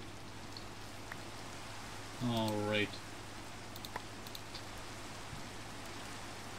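Steady rain in a Minecraft-style multiplayer survival game, a soft, even patter of raindrops at low volume, with a brief spoken word from a player partway through.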